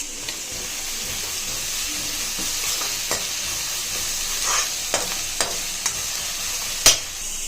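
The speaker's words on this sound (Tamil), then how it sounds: "கடாயை வச்சு எண்ணெய் ஆட் பண்ணின்னு இந்த வெங்காயத்தை ஆட் பண்ணிடுங்க. நல்லா வதக்கங்க." Onions sautéing in oil in a kadai for tomato kurma, a steady soft sizzle with several sharp stirring scrapes and clicks of the spoon, close and fairly quiet, no talking.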